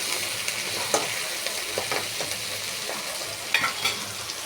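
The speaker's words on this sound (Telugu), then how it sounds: "కొద్దిసేపు ఆయిల్లో ఉడకనిద్దాము" Dal simmering and sizzling in hot oil in a pan, a steady crackling fry with light stirring scrapes and small pops, close and moderately quiet, with no talking.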